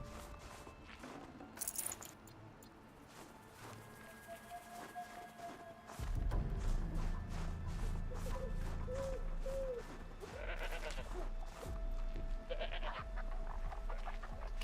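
Goat bleats in the game Horizon Zero Dawn, a few short wavering cries partway through over a busy bed of game ambience, footsteps and a sudden louder rumble of action.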